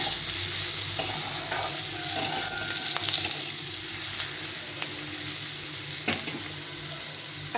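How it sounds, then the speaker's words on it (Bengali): Dried red chilies and cumin powder sizzle and fry in a pan while a utensil stirs and scrapes them, preparing khichuri; a steady, close, continuous crackle with occasional stirring knocks. "দিয়ে এটাকে একটু ভেজে নিতে হবে।"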